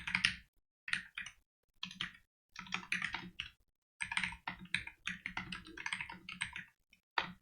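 Bursts of rapid keyboard typing while writing F# code, with short pauses between runs of keystrokes, close and fairly quiet, no talking.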